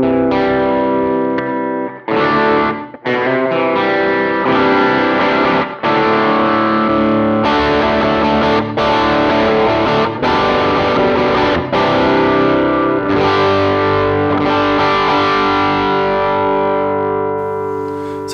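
Electric guitar through a Minotaur distortion drive on a Line 6 HX Stomp into an AC30 amp model, loud saturated chords and sustained notes with a few brief stops, played alone with no talking.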